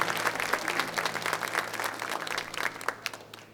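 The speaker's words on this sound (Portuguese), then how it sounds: "Vamos aplaudir a nossa Mãe Santíssima." A church congregation applauds in steady, dense clapping that carries on evenly, with a low hum beneath it, thinning slightly toward the end.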